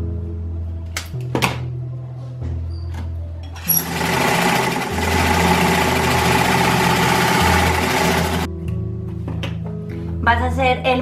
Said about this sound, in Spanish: Voy a comenzar a coser por todo el contorno.